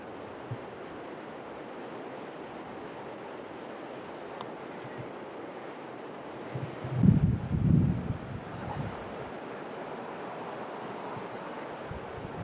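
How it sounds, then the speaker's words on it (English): Surf breaking and splashing over an offshore rocky reef at a beach, a steady wash of waves and wind with one louder surge of splashing midway, heard from a distance. "Rock, waves are splashing over."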